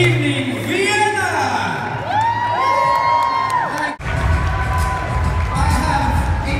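A pageant audience in Vienna cheers and whoops loudly for the Miss Earth 2015 hosts, shrill yells rising over a sustained roar that swells again after a brief cut.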